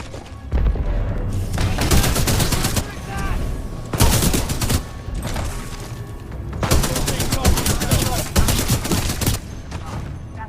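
Weapon fire in the video game Titanfall 2 comes in loud, dense automatic bursts with short pauses between them, forceful and up close throughout.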